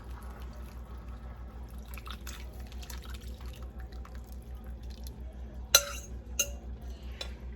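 Quiet, soft trickling of broth being poured over food, followed by a few sharp clinks of dishware near the end.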